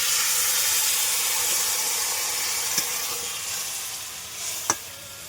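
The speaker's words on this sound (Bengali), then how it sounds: "এবার জলটাকে দিয়ে দিলাম" Water poured into a hot pan of rohu fish curry gives a loud, steady hissing sizzle that fades gradually, broken by two sharp clinks of a utensil against the pan.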